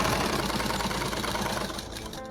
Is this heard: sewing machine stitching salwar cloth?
yes